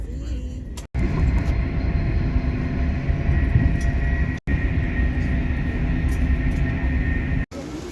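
Train to Madrid departing and running, a steady loud rumble of wheels and carriage noise with a faint tonal whine, continuous apart from a few brief dropouts.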